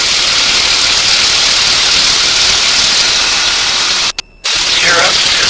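Small airplane piston engine of a T-6 running at 2,350 RPM, a loud steady roar filling the cockpit with a brief dropout near the end.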